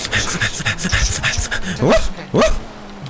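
A dog in GTA 5 Online whimpers close by, letting out two sharp rising whines between short panting and sniffing sounds.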